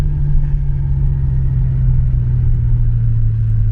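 Car engine idling rough while starving for fuel, a loud, close, steady low rumble with a slightly uneven pulse, in a car fitted with Dinan hyper coils and suspected of a bad cylinder 4 injector.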